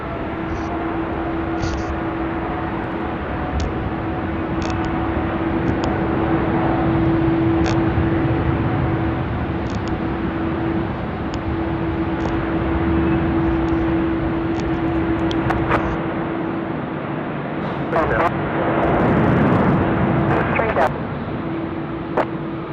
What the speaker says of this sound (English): Always a nice heavy roll of the Air Canada 34.